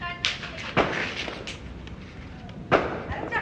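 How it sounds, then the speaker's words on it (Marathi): A seven-shot firecracker goes off during outdoor New Year celebrations in Alibag, giving sharp, separate bangs, the loudest near the start and another a few seconds later, with a faint crackle between them. "आपण पण फोडी आता हा 7 शॉट बघा"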